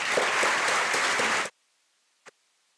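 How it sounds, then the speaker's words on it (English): An audience gives a round of applause at an inaugural event, a dense burst of many hands clapping that stops abruptly, followed by silence and one brief, isolated sharp sound. "can we have a huge round of applause for each one of us?"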